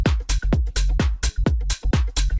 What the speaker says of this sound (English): So with just the sub, it sounds like this.